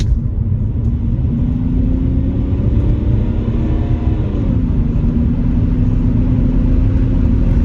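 A high-mileage BMW 525D diesel saloon accelerates hard at the national speed limit, its engine droning loud and steady from inside the cabin with a slowly rising note, no talking.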